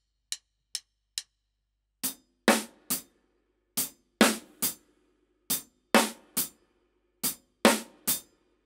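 Sparse drum kit groove played solo in a half-time feel: three light hits, then a steady pattern of sharp, evenly spaced strikes with decaying tails, clear and close with no other sound.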